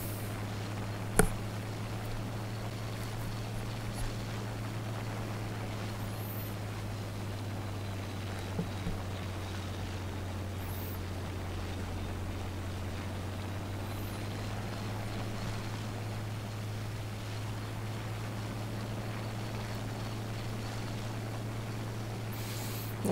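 A propeller aircraft engine in a flight combat game drones steadily throughout, throttled back during a scissors manoeuvre, a constant low hum with faint clicks and no voices.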